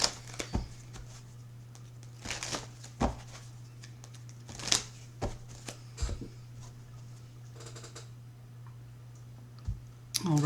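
Tarot cards are shuffled in short bursts of soft, crisp riffles and clicks, close and fairly quiet over a low steady hum.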